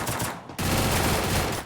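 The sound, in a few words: gunfire in Free Fire video game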